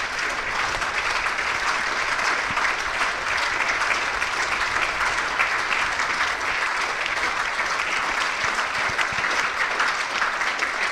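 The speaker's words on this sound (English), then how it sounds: "here's the applause for Temba Bavuma." Cricket crowd at a County Championship match between Northamptonshire and Lancashire applauding a departing batsman after a century, a long, steady ripple of clapping that holds evenly throughout.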